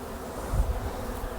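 Honeybees buzz softly at an opened hive on a cold, damp, windy day, a low steady hum mixed with gusting wind rumble across the microphone.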